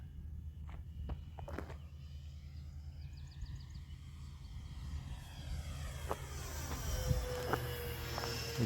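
An FMS 1450mm P-51 RC model airplane on its first flight of the year drones overhead, its electric motor whine sweeping up and down as it passes, moderately loud and steady.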